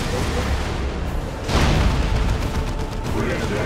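A Demolisher Cannon fires in the Dawn of War II: Retribution battle, a heavy boom bursting out of a dense, continuous roar of battlefield noise and explosions.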